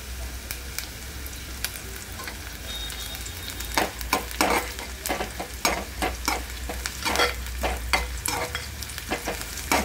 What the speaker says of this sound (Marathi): आता कांदा भाजून घेऊया। यामध्ये आपण आता कढीपत्ता टाकूया